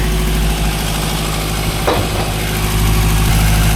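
A Morris 8 car engine idles steadily with a low, even rumble and slight vibration, running alone with no talk over it.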